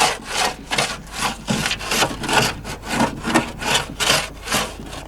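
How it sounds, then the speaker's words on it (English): A microfiber cloth buffs car paint in quick back-and-forth strokes, making roughly a dozen evenly spaced rubbing swishes. The strokes are close and fairly loud, with no voices. "And then you need your microfiber cloth."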